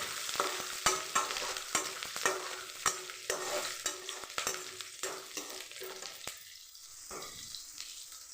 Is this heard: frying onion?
yes